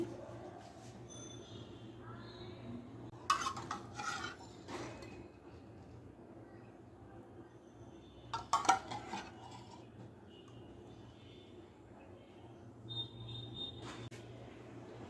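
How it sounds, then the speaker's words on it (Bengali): Dry ingredients being mixed into ghee in a pan for homemade sweets, quiet scraping with a few sharper clinks of a spoon against metal in short bursts over a soft background hum; no voices. "আরও একবার ঘিয়ের সাথে শুকনো উপাদানগুলো মিশিয়ে নিচ্ছি"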